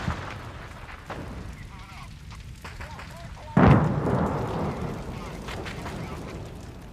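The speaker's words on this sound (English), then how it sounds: "Shells and machine gun bullets rip into the Japanese as the charging Marines reach the crest." Battle sounds from the fighting for Sugar Loaf Hill on Okinawa: tank shells and machine-gun fire give scattered rumbling blasts, then one loud close explosion with a long roaring tail, beneath a narrator's voice.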